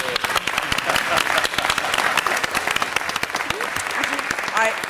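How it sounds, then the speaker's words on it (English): Audience applause fills a city council meeting chamber, steady dense clapping from a crowd throughout, with some voices mixed in beneath it. "Pat Tobin, let's give her a big hand."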